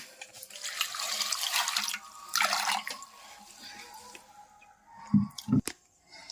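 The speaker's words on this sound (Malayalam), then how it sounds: "അതിന് നമ്മൾ ആവശ്യമുള്ള വെള്ളം ഒഴിച്ചു കൊടുക്കണം" Water pours into a cooking pot for a Kerala village taro curry in two steady splashing bursts, followed by a couple of brief knocks of the pot near the end, with no talking.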